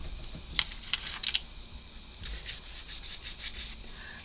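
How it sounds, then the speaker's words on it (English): Hand sanding of a thin part on a DeAgostini Moomin House part-work model, with a few light scratchy strokes early on, then a steadier run of soft rubbing passes, close and quiet. "So let's get that sanded down."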